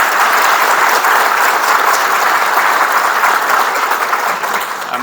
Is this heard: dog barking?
no